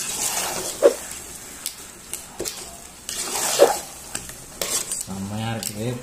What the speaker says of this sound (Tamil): அப்படியே கிண்டி கிண்டுவோம்.